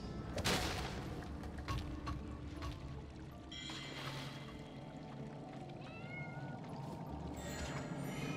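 Several faint meows from a cat in the video game Trine 4 rise over a busy background of rumbling noise, with a sharp crack near the start.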